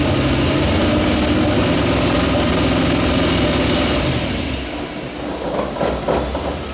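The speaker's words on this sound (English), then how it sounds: "Give it a rev." A Toyoace Mini Mog truck fitted with an LS1 V8 and Th400 gearbox runs close and loud, a deep steady rumble that dips near the end and then rises again.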